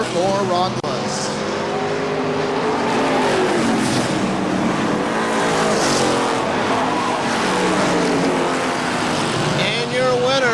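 Race cars roar around KilKare Speedway, a loud, continuous engine drone with rising and falling pitch as cars pass, while an announcer talks over the racing.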